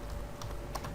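Quick, close keystrokes on a computer keyboard while entering text in AutoCAD, a short burst of clicks alone with no talk.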